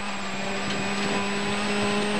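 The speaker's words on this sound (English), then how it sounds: "Oh, listen to the engine note." A WRC rally car's engine holds a steady, loud, sustained note on a special stage, a continuous tone with no pauses and no talk.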